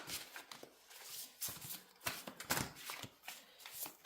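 A Divine Commande oracle card deck is shuffled and cards are drawn, making quick, close papery riffles and soft slaps in uneven bursts, with no speech.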